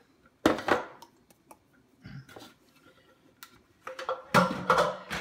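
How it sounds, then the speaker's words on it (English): Crumbled dry scone mixture tipped into a mixing bowl for dried cherry and almond scones, giving several short clattering bursts and scrapes as it lands, with quiet gaps between the pours. "now I'm going to just empty this into my mixing bowl"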